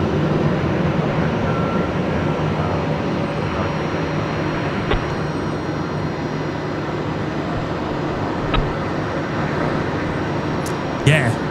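A US Air Force C-17 at Brisbane Airport, heard as a loud sustained broadband engine roar with faint tonal whine, steady and continuous, with a couple of sharp clicks and some faint talk mixed in.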